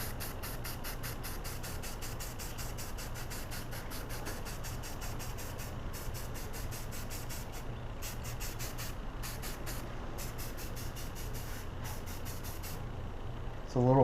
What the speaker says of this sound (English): And you'll just spray the board lightly to give it that aged look.